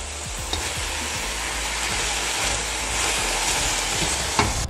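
Beef and broccoli frying in a pan, a continuous bright sizzle with occasional stirring clatter and utensil knocks close by.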